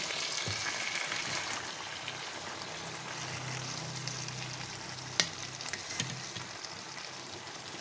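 Mutton and green beans frying together in masala, giving a steady dense sizzle close by, with scattered scrapes and knocks of stirring and a sharper clack near the end; no talking.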